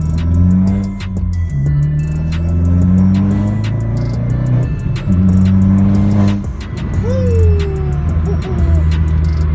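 VXR car with a loud modified exhaust heard from outside: a deep, loud engine drone rises and falls through repeated revs and gear changes, with a rasping, rumbly exhaust tone close by.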